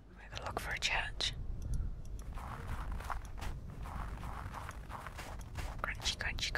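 Crunchy footsteps from the video game The Last Door, a run of soft crackling steps under a whispering voice that talks throughout.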